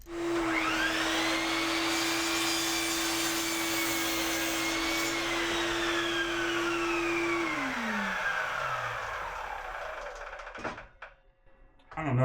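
A shop vacuum drones steadily while a miter saw whines up and cuts boards for a firewood shed roof, then the motor winds down, ending with a few knocks of wood.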